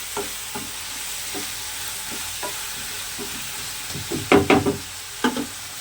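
Green chillies sizzle in a hot pan with salt for a prawn and drumstick curry, under a steady frying hiss, with soft stirring knocks and a few louder scrapes near the end.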